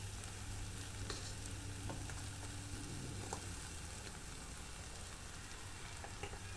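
Fried rice stirred and tossed in a pan, with a steady close sizzle of frying running throughout and occasional light scrapes and knocks of the utensil against the pan.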